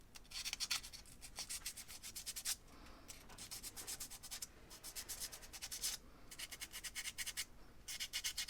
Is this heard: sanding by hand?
yes